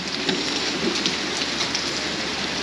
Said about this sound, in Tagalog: Naulan, alakas ng ulan guys, hindi ako makalarga kasi mababasa ang ating GoPro